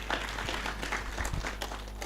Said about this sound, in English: why don't you give PSFU a big clap for that?